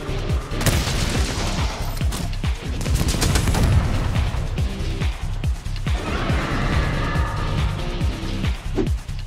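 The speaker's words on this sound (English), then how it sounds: "The shot sticks onto the monster and remains there for a few seconds before it detonates." Heavy bowgun fire from Monster Hunter World: the Wyvern Snipe shot, which sticks to a monster before detonating, heard as a dense run of loud booming blasts and crashing impacts with game effects around them.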